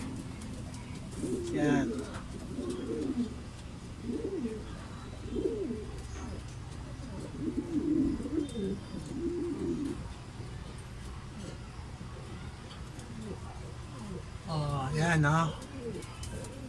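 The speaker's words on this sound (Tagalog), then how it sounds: "yan na yung karamihan ng ibon natin na ilalaban" Racing pigeons coo in soft repeated bursts, close by, with a louder rolling coo near the end, while someone talks briefly over them.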